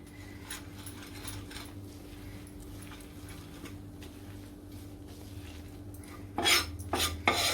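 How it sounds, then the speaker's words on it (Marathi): Flour roasting in butter in a pan, with a low hum under light scraping and clinking of a spoon against metal; a few louder metallic knocks near the end, no speech. "असं चांगलं भाजून घ्यायचं मैदा पहिले आपल्याला बटरवरती."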